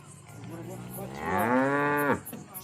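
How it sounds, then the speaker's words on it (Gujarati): A dappled cow lets out a single loud, drawn-out moo near a farm shed. The call rises and then cuts off, and there is quiet barn noise before and after it. "આ કાબરી ગાયની વાછડી જે કાલે વિયાયેલી છે એ ચડી ગઈ છે"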